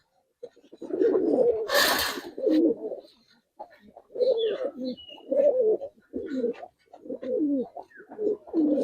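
Giribaz and coloring pigeons coo in repeated throaty bursts at close range, each phrase lasting about a second with short pauses between them. A brief flutter of wings comes early on.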